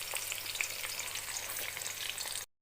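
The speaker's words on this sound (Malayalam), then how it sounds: "നമുക്കിത് ചൂടാക്കിയിട്ട് നമുക്ക് ഇതിലേക്ക് സബോള ഇട്ട് കൊടുക്കാം" Sliced onions fry in hot coconut oil for a crab curry, making a dense, continuous, crackling sizzle close by that cuts off abruptly at the end, with no talking.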